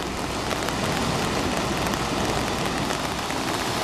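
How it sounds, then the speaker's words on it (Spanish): Rain falling on an umbrella held over someone standing on a coastal cliff, a dense, steady patter of drops with brief sharper taps, close and continuous, no voices. "Aquí bajo el paraguas, ¿eh? Pues vale, mira porque de vez en cuando llueve."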